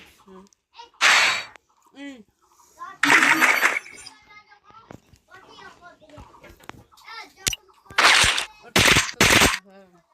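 Short loud bursts of video game gunfire crack out in a shootout, several blasts scattered between children chattering and shouting over the game.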